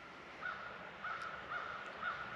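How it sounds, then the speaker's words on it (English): Local crows cawing outdoors, four short harsh calls spaced about half a second apart at moderate distance over a steady low background hum. "If it's not neighbors making noise, it's the local crows."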